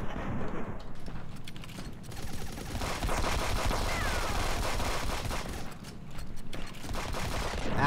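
Sustained rapid gunfire in a first-person shooter video game, dense overlapping bursts from several weapons firing continuously and loudly throughout, with brief dips in intensity.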